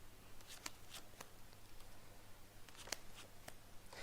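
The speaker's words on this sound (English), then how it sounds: "first I'm going to shuffle the deck" A deck of playing cards being shuffled: faint, soft riffling bursts and a few sharp card snaps, spread unevenly over a quiet background with no talking.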